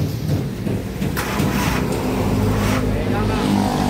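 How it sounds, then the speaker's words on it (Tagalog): A car's starter motor cranks sluggishly and with difficulty, a steady loud grinding whir that strains on without catching, close by, with voices talking over it. "Ay, parang hirap kumikot ang starter."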